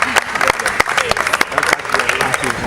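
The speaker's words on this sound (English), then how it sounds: "Round of applause, please." Children at a tennis foundation visit in Nigeria give a brief round of applause, with loud sharp claps and excited voices mixed in close to the microphone.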